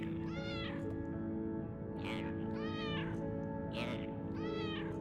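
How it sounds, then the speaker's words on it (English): A cat in an incremental video game meows three times in a steady rhythm, clear and close, over a constant humming background of game music. "I do find it funny that we can meow at it"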